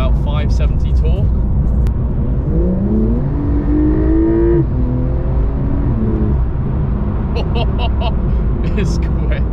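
A Porsche 911 Carrera 4 GTS accelerates, its engine tone rising through a couple of gear changes from inside the cabin, steady and fairly loud beneath someone talking.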